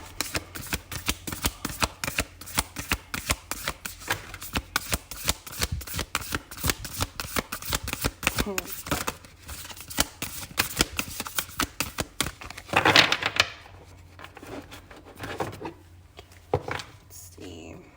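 Tarot cards shuffle continuously in close-up, with a dense, rapid riffling and flicking that carries on for a long stretch before it slows and thins out near the end.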